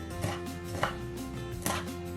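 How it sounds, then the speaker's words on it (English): A knife chops vegetables for a chickpea curry on a board, three distinct, fairly soft thuds spaced unevenly over a faint steady hum, with no voices. "definitely getting chopped up a bit more now"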